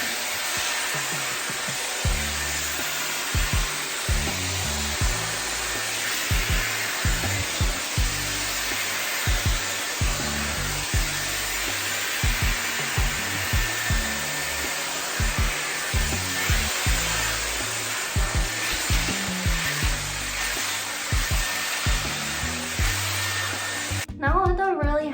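Dyson Airwrap hair styler blowing on high heat, a loud steady airflow roar lasting throughout, with faint brushing and handling noises underneath before it cuts off at the end.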